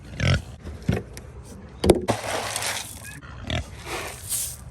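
A pig at its hut grunts and oinks close by in several loud, irregular bursts, with rustling and snuffling noises between them.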